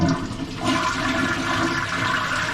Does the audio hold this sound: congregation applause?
no